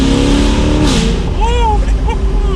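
A modified C8 Corvette Stingray V8 exhaust roars under acceleration, loud and close, then shifts and settles as people talk excitedly over the engine.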